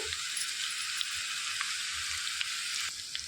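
Cucumber and drumstick pieces sizzle steadily in hot oil in a pan for Andhra-style spicy curry, a continuous close frying hiss with small pops and faint stirring, no talk.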